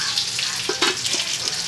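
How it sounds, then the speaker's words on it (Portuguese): Sausage frying in a home kitchen pan gives a steady, close crackling sizzle with a few sharper pops and spits over a constant hiss, no talking. "Aqui eu tava já fritando, ó."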